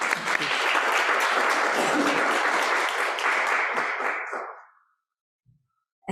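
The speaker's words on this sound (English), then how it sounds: "Let's give Maureen a clap" An audience claps for Maureen at an International Women's Day event at the University of Glasgow, a dense, steady round of applause that fades out after about four and a half seconds, leaving silence.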